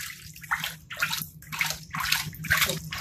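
Water pouring and sloshing into a container while soaking a Wagner 1891 cast iron skillet for restoration, in rhythmic surges of splashing and gurgling close by, without talk.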